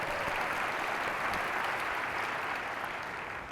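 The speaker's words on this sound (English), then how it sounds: "Give Marc Morial a big round of applause." A conference audience in a large hall gives a main-stage speaker a big round of applause, continuous and dense clapping heard from within the crowd that tapers slightly toward the end.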